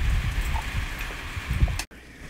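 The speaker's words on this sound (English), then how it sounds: "It's really raining." Rain falls outdoors, a steady broadband patter with some low rumble from drops hitting surfaces, cut off abruptly near the end, without any speech.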